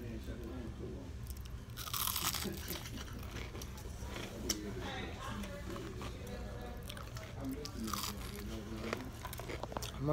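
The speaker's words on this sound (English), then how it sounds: "The shrimp is real crunchy." Crunchy fried shrimp from Captain D's being chewed close to the mic, with loud irregular crunching bursts and wet mouth sounds continuing throughout, under faint background noise.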